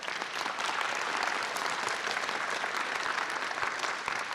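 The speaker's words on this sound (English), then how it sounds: "please can we have a round of applause for our panel?" An audience at a university graduate orientation session applauds a panel, steady dense clapping at moderate volume from a room of people, continuing evenly throughout without a voice over it.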